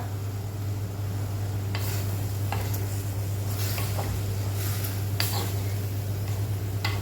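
Mushrooms with curry leaves sizzle as they are stir-fried uncovered for a pepper fry, a steady close hiss with a few soft scraping stirs over a constant low hum.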